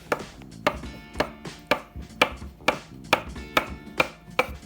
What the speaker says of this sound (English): we're going to chop up some avocados to put inside of the sushi